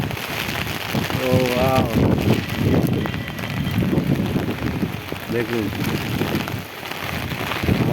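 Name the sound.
rain falling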